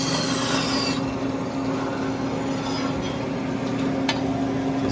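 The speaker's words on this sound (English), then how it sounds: "Now I'm gonna just take this over to the bandsaw, cut that, and then I'll cut the other side." A bandsaw cuts through metal tube for a vehicle chassis build, giving a steady whine with a constant hum and a rasping grind that holds throughout at close range.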